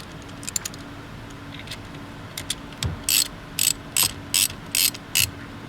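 Ratchet wrench backing out bolts from the MT-82 manual shifter of a 2011 Ford Mustang, heard as five or six short, crisp clicking bursts in steady rhythm after a few faint ticks, close and moderately loud with no talk.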